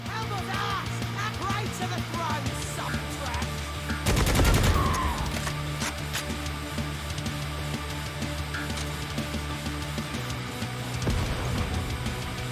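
Gunfire in the Necromunda Hired Gun video game: sustained rapid automatic bursts and volleys crackle throughout, with a heavy, loud impact or blast near the start and a swell of shots toward the end.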